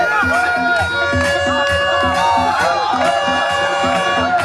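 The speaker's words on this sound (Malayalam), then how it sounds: "കയ്യടികളും ആരവങ്ങളും ഉയരട്ടെ." A crowd cheers and roars at a live tug of war match. An excited commentator talks loudly over the noise, with rhythmic beats in the background.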